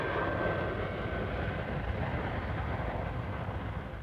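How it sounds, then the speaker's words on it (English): A C-5 Galaxy, the huge military transport, landing at an Air Force Reserve exercise, heard as a loud steady broadband roar of jet engines sustained throughout with no voices. "peaking with the landing of a C-5 Galaxy,"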